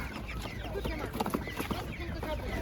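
Chickens cluck in short bursts against a busy outdoor animal market background, with faint voices mixed into the crowded market noise.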